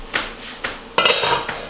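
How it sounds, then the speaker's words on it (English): A spoon clinks and scrapes against a pot of Tuscan zuppa while it is stirred, three quick metallic taps followed by a short rattling scrape, close and clear with no talking. "Give it a little stir"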